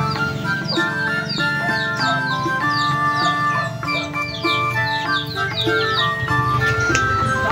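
Chickens cluck repeatedly nearby in a busy flock, overlapping calls and short squawks filling the whole stretch with no talk.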